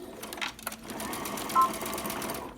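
A sewing machine stitches along the edge of a Christmas appliqué pillow cover, giving a soft, close, continuous rapid whir with a few brief surges while it back stitches.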